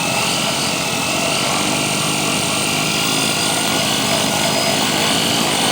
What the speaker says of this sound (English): throttling down, throttling up.